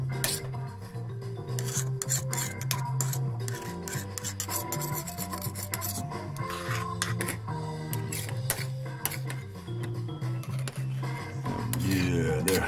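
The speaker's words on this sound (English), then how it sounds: "I'm just going to scrape it in here and give it a little bit of a stir" A fork scrapes noodles into a bowl and stirs Maruchan Seimen instant curry udon, making repeated close rasping scrapes and rubbing strokes in an uneven rhythm.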